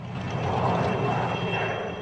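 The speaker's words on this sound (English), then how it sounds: "the United Nations has deployed a spotter helicopter to try to find out what's going on" A UN spotter helicopter flies overhead in a war zone in DR Congo, its steady engine drone continuous and moderately loud throughout, with a faint high whine layered above.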